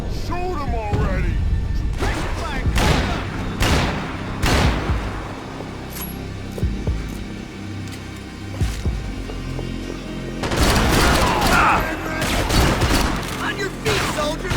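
Gunfire in the Max Payne 3 video game: repeated loud bursts of shots and impacts spread across the scene, with a heavy volley near the end, mixed with game voices shouting.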